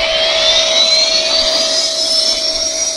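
A CRJ-1000 jet airliner in a phone flight game, a loud steady engine roar with a constant mid tone and a slowly rising high whine, continuous and close with no talk.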